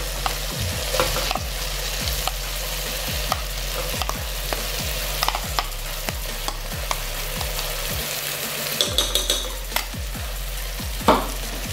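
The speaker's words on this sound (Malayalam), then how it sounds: "ഇതൊക്കെ നന്നായിട്ട് മിക്സ് ചെയ്യാം" Andhra mutton curry stirred in a pot after coconut, cashew and garam masala paste is added: a spoon scrapes in a regular rhythm of strokes over a constant low sizzle, close and steady, with no talking.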